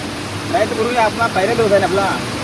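Stream water rushes steadily over a crab trap set in a Konkan hillside stream, a constant close wash of flowing water with voices talking over it.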